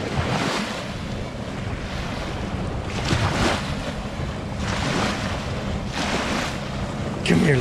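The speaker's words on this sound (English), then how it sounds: "Nice day at the river." Water laps and washes at a riverside on a windy day as small waves surge in repeated swells every couple of seconds under constant buffeting wind noise on the microphone, close and fairly loud.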